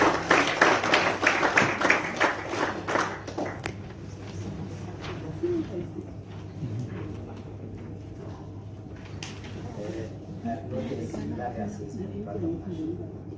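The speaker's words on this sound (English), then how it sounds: "Let's give him a round of applause." An audience at a youth peace and tolerance event in Zimbabwe breaks into a burst of applause for a speaker. The clapping is loudest at first and fades within a few seconds, leaving quieter room sound and murmuring.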